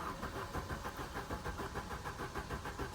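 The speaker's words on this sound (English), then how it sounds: "Just keep turning the car over until the oil pressure light goes out" A Vauxhall Astra GSi with a Z20LET turbocharged engine running steadily after cranking over, a continuous mid-pitched engine drone with a faint rhythmic pulse, close and fairly quiet.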